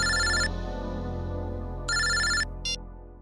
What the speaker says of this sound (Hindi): एयरपोर्ट से फोन था।